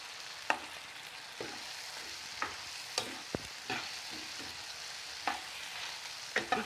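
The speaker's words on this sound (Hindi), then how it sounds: "इसे हम अच्छी तरह से मिक्स कर लेंगे" Capsicum fries quietly in a pan for chilli potato, with a faint sizzle broken by sharp, irregular clicks and scrapes of stirring.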